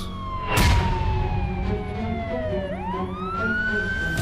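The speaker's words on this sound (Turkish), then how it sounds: "Neden siren sesi geliyor?" A loud police siren wails steadily, its pitch sliding down and then rising again, with traffic rumble underneath and a brief burst of noise near the start.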